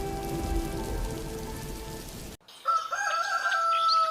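Steady rain patters for a couple of seconds, then cuts off abruptly to a rooster crowing loudly nearby.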